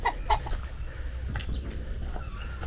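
Pricey chickens cluck in a few quick bursts at the start and then intermittently on a rural smallholding with greenhouses and vegetable plots, over a low steady background.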